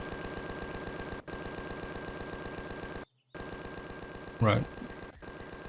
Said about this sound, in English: I don't want the ship constantly firing at that